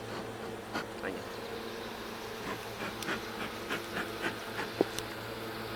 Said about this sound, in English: these bees are still trying to fight to stay alive